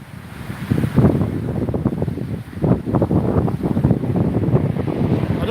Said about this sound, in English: Look how windy it is.